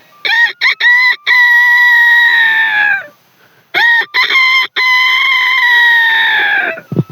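A man imitates a rooster crowing, giving two long, loud, close cock-a-doodle-doo calls separated by a short pause, each opening with a few sharp clipped notes before a sustained wavering tone.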